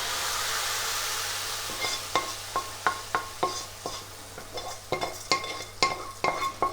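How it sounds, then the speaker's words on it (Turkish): Orzo pasta stirred into a pot of cooked vegetables for Ankara tava: soft sizzling and a run of sharp spoon clinks and scrapes against the pot in an uneven rhythm, with a low hum behind. "Şimdi arpa şehriyeleri tencerenin içine alıyorum."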